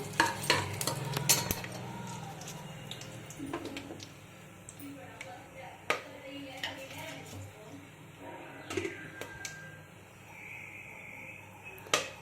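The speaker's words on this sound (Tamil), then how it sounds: "பட்டை லவங்கம் சோம்பு ஏலக்காய் அண்ட் பிரிஞ்சி சேர்த்துக்கலாம் நல்லா பொரியட்டும்" Whole spices (cinnamon, cloves, fennel, cardamom and bay leaf) frying in oil for mushroom biryani, with soft crackling and occasional sharp utensil clicks against the pan, fairly quiet throughout.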